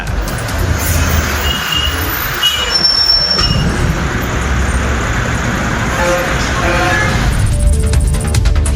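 A train running on rails, loud and close, with a continuous rumbling roll, metallic wheel squeals and rattling clatter that builds toward the end, with no voices.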